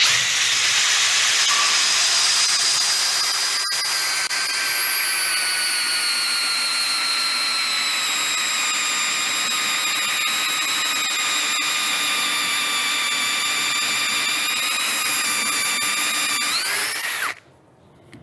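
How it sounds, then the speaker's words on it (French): A power drill with a hole saw whines steadily as it cuts into wood for about seventeen seconds, close and loud, then stops abruptly. "il faut se méfier avec les scie cloches comme ça a quand même beaucoup de puissance"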